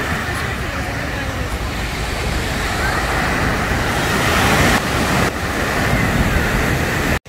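Calm ocean surf washes onto a small beach in Phuket, Thailand, a steady, loud wash of breaking waves and rushing water filling the whole stretch without a break.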